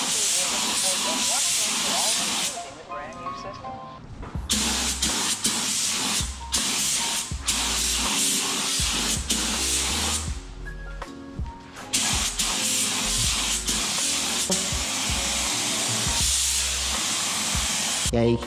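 Liquid wrap paint sprayed onto a car wheel rim in loud, close hissing bursts, several long sprays broken by short pauses, with some faint background sounds.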